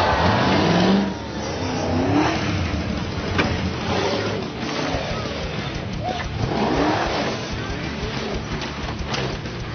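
A 4WD truck in an extreme racing event pulls big endos and wheel stands, its engine revving hard and surging in loud waves with a rough, roaring tone and no talk.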